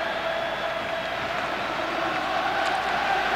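FC Porto fans celebrating in the stadium after a 1-0 title-clinching league win over Nacional, a dense, steady crowd roar heard from a distance without clear breaks.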